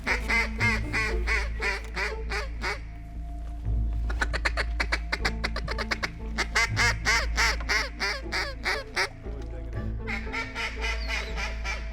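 Ducks in flooded timber at dawn quack and call in repeated bursts, a chorus of loud rhythmic quacking and honking close by over a steady low rumble.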